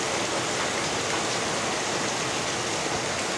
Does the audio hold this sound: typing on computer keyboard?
no